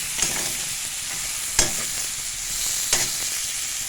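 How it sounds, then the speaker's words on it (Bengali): Prawns coated with turmeric and salt frying in oil in a kadai, giving a soft steady sizzle with a few sharp crackles and pops. "তারপরে চিংড়ি মাছটা হলুদ লবণ মাখিয়ে তেলের মধ্যে ছেড়ে দেব"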